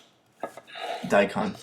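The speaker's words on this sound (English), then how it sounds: "I'm going to start dicing it the same exact way as I did with the" A knife dicing Asian pear on a cutting board for kimchi, giving a few soft, quick chopping taps close by with no talk over them.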